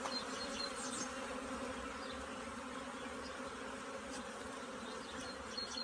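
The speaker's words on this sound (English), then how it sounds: "I'm going to try and get the bees off of it" Honey bees buzz steadily around an open hive, a faint, continuous droning hum with a few louder individual bees passing near.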